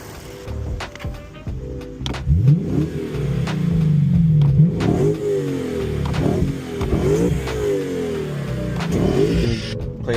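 Lexus IS500 V8 revving hard in repeated bursts, with rising sweeps that hit the rev limiter and stutter against it, loud and close.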